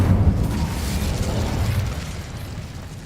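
An Incendio fire spell cast in the Hogwarts Legacy video game bursts out as a deep, rumbling whoosh of flame that swells at the start and then rolls on steadily before fading slightly, with no talk.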